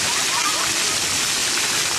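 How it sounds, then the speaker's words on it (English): Water spraying at an outdoor park splash pad, a steady broadband hiss of falling and splattering water that stays loud and even throughout. "you see that? At the splash pad."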